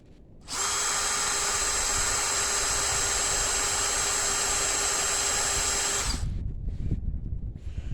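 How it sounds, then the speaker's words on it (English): A loud, steady power drill whine runs continuously for about five seconds while boring into a steel bolt with hardened edges, then cuts off, leaving some low rumbling handling noise. "notice the drilling's a little bit slower on this side because I think the edges are actually hardened"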